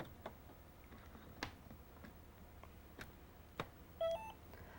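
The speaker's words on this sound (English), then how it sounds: "typically the PCM-CIA devices will give you a double beep to let you know they've been inserted correctly" A Xircom credit card PCMCIA Ethernet adapter is inserted into a laptop slot, giving faint scattered clicks and then a short, clear double electronic beep near the end.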